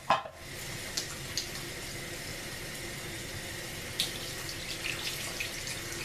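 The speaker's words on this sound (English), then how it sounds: "So, washing my hands, you guys. See this big bar of soap?" Tap water runs steadily and faintly into a sink while hands are washed with a big bar of soap, broken by a few small clicks and knocks, with no talking.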